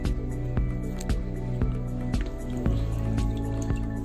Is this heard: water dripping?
yes